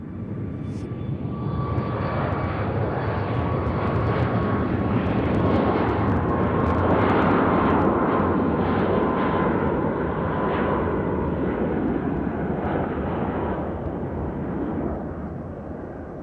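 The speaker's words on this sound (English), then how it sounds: "So here goes Southwest to Kansas City." A Southwest airliner roars loudly on takeoff from Nashville International Airport, its engine noise swelling and holding steady as the jet climbs away, with no voices over it.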